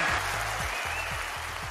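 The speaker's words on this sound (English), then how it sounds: "Just listen to that applause for a really wonderful champion." Audience applause for the champion at the UK Championship snooker final, a steady, dense wash of clapping that holds at an even level throughout, with a faint low rhythmic rumble underneath.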